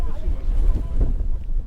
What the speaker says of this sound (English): because it's windy, so much windy today